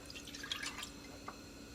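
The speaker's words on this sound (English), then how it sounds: "You wanna add your milk," Milk trickles and splashes into a pan over medium heat while churro batter is being made, a faint, brief liquid pour with a few drippy plinks.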